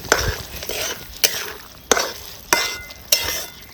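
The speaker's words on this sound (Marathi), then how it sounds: "सगळीकडून हा बोंबील आपल्याला हलवून घ्यायचा आहे" Bombil (Bombay duck) fish sizzles in a frying pan while a utensil scrapes and stirs it in steady strokes, roughly every half second.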